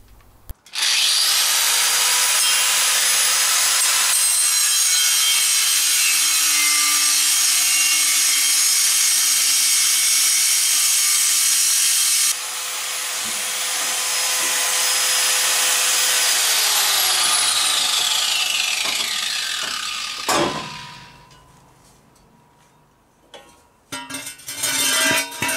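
Loud, continuous power-tool sawing through the old, badly patched exhaust pipe of a 1977 Chevrolet Caprice, two long cutting passes with a brief shift in pitch midway, then the blade winds down and stops, followed by scattered clanks.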